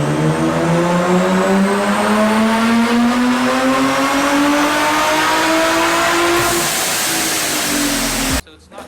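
A supercharged Vortec V2 car engine making about 440 horsepower revs up loud and close, its pitch climbing steadily for several seconds before cutting off abruptly.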